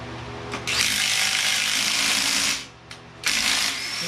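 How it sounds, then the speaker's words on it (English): An impact wrench drives an 18 millimeter fastener on the engine of a 2000 Ford Expedition, firing in two loud, close bursts separated by a short pause. "Now use the impact to pull it on the rest of the way."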